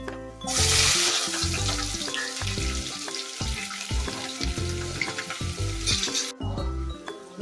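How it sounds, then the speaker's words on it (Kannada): Sliced onions sizzle loudly in hot oil in a pan for plain pulao, with a continuous crackling fry and repeated stirring scrapes, alone with no talk. "ಒಂದು ಈರುಳ್ಳಿ ಹಾಕ್ತಾ ಇದ್ದೀನಿ, ಎರಡು."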